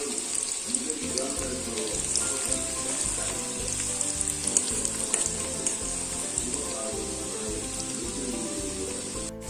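Squeezed bitter gourd pieces frying in hot oil in a wok for mulaku curry, a constant crisp crackling sizzle with a steady high hiss and rhythmic bubbling underneath, near and even, with no voices.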